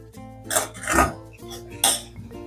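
Tarri poha being gently mixed in a pan: a few distinct clinks and scrapes of a spoon against metal, three main bursts in quick succession, close and fairly loud with no speech.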